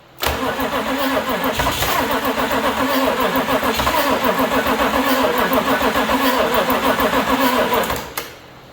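A 1965 Chevy C30 shop truck engine fires for the first time and runs loudly and steadily near the microphone for about eight seconds, a rough, busy mechanical roar that stops abruptly at the end.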